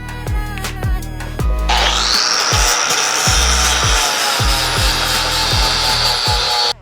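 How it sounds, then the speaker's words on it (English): An angle grinder fitted with a 60-grit flap disc grinds down a diesel Mercedes exhaust pipe, a loud, close, sustained whine with rhythmic thumps as the disc bites, alone without talk. "take a flap disc and just get it nice and level"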